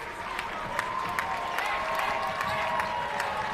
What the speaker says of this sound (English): Crowd appreciating the Jaguar defense on this possession.